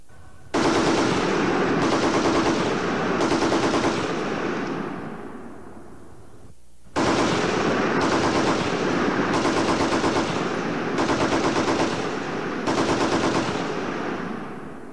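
Browning M1919 machine gun firing two long sustained bursts of rapid automatic fire, loud and close, with a short pause between them and no talking.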